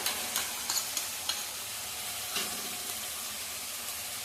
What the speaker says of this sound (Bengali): পেঁয়াজ আদা রসুনটা একটু হালকা ভেজে নিয়েছি এখন বাকি মশলাটা দিয়ে দেবো